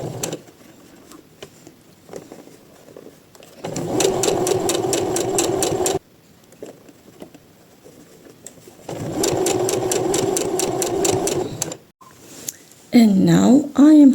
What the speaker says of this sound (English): So I will sew like this and then I will put it like so and sew again.